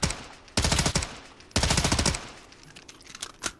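Suppressed Sig MCX Virtus rifle fired in Fallout 4, two rapid bursts of muffled, rattling automatic shots followed by a few scattered quieter pops, close and fairly loud, with no speech.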